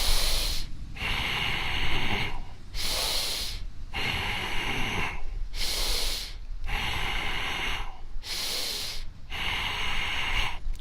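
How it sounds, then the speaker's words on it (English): Deep, forceful breaths in and out during a seated desk workout, about six slow cycles of hissing inhales and exhales close to the microphone, with no talk. "Breathe in, breathe out."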